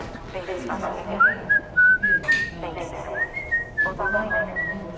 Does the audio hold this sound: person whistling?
yes